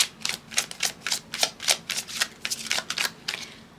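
Tarot cards shuffled by hand in a quick series of about a dozen crisp, rhythmic bursts, close and distinct with no talking.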